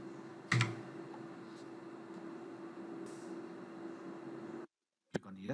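Keys clatter on a computer keyboard as a new folder name is typed in, a soft continuous run of close taps over a steady electrical hum, ending in a brief silence and a couple of sharper clicks.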